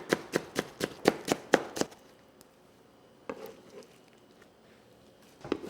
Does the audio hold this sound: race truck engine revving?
no